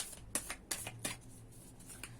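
Tarot cards being shuffled by hand during a card reading, a few quiet, quick riffling bursts spaced a fraction of a second apart over low room noise, with no talking.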